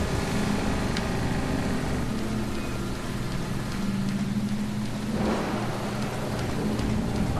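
Steady rain falls in the Deadly Premonition video game, a continuous even hiss with low droning tones beneath it and a brief louder patch partway through. No one speaks.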